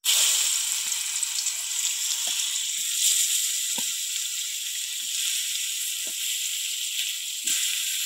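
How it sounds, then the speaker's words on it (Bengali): Raw jackfruit pieces fry in hot oil in a wok, giving a steady, fairly loud sizzle and hiss with a few sharp crackles and pops scattered through it. No one talks. "কড়াইতে তেল দিয়ে দিয়েছি, গরম হয়ে গেছে। এবার এইগুলো ভেজে নেবো, কাঁঠালের এঁচড়।"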